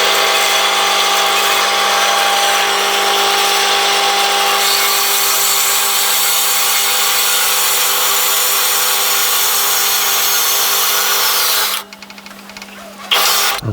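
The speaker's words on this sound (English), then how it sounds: "I'll put it in the bandsaw and cut it to length." A bandsaw cuts a wooden display base to length, giving a loud, steady whine with no voices that holds for about twelve seconds before dropping off and rattling to a stop.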